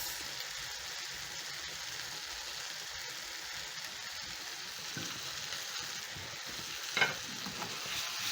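Sliced red and yellow peppers sizzle in a hot pan, a soft, even frying hiss throughout with one brief louder clatter near the end.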